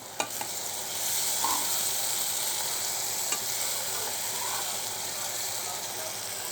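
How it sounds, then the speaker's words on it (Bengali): Masala for a fish dish being stirred and fried in a pan: a steady sizzle runs throughout, with a few sharp scrapes and clicks of the spatula against the pan, and nobody talks. "মোটামুটি কষানো হয়ে গেছে। দেখা যাক কি অবস্থা হয়। আর একটু নেড়ে চেড়ে দেই।"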